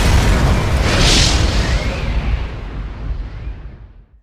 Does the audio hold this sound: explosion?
yes